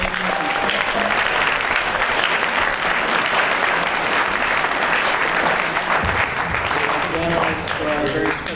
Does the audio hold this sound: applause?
yes